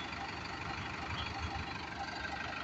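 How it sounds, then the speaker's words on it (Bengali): A new Mahindra Arjun Novo tractor's engine idles with an even, low throbbing rumble, steady and unbroken at moderate distance, with no talking. "গাড়িটা এখন রাজশাহীর উদ্দেশ্যে রওনা দিবে।"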